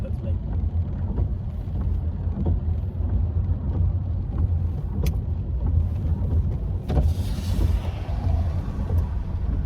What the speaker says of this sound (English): Bit of road noise for the time being.